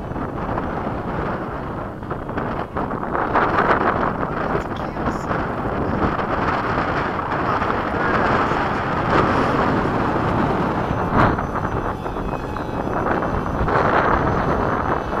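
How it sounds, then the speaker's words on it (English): Electric motor of a Battlewing RC flying wing in flight, running low on power, a continuous droning whine under heavy wind buffeting on the microphone, steady and fairly loud throughout. "Listen to the motor. It's like, God, I got no more."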